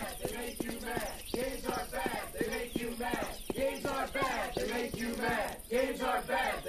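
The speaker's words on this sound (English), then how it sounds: "That's the sound of protesters." A crowd of protesters in the video game Postal 2 shouts a rhythmic chant in unison, with loud repeated voices filling the scene continuously and close.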